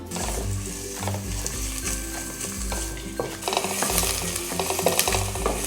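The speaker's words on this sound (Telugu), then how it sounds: "రెండు ఉల్లిపాయలని చిన్న చిన్న ముక్కలుగా కట్ చేసి వేసుకుంటున్నాను" Finely chopped onions frying in about one and a half tablespoons of oil in a pressure cooker, a close sizzle under repeated metallic scraping and stirring knocks that grow busier toward the end, with no voices.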